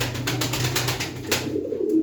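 Racing pigeons coo close by in a loft, a soft throaty rolling burble repeating in quick pulses over a low murmur.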